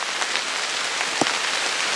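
Rain falling steadily in Georgia woods during a turkey hunt, a dense even hiss of drops on leaves and ground close around, with one brief louder knock partway through.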